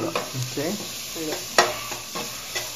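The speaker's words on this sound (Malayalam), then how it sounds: "ഒന്ന് സോട്ട് ചെയ്ത് നല്ലപോലെ ഇളക്കി കൊടുക്കുക." Steady sizzle of pepper and ingredients sautéing in a pan for chicken macaroni, with close, brisk stirring scrapes and a sharp clink partway through.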